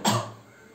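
One short, close cough from a man teaching a maths lesson bursts out sharply, then trails away into quiet.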